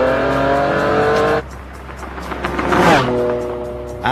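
A Ferrari Enzo supercar accelerates hard at high speed on a closed interstate, its loud engine climbing in pitch, easing off briefly between gear changes, then surging again close by.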